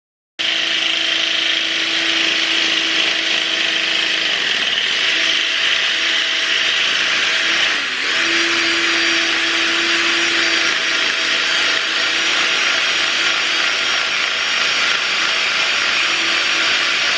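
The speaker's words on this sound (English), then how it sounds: "This is after one going over with the fine sandpaper." Steady, continuous abrasive rasp of fine sandpaper working over the centre section of a Nissan 350Z drift car's painted strut bar, close and even for the whole stretch with a brief dip midway, no talking.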